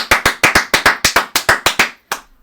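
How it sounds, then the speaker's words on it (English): A single person claps about a dozen sharp, evenly spaced times in quick rhythm, close and loud, followed by one final clap after a short pause. "Clap it up for Michael Wacha."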